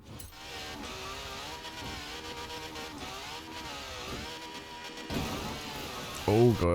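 A car engine revving in an off-road racing video game, a droning, gear-shifting whine that rises and falls under ongoing talk, with a louder burst near the end.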